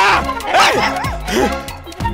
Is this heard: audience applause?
no